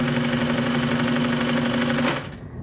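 A pedal-driven sewing machine runs at steady speed for about two seconds with a continuous whirring hum, loud and close, before the motor winds down and stops.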